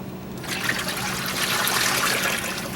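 Water pours steadily into a hydroponic tank, making a continuous close gushing, splashing flow that starts suddenly and holds at an even level.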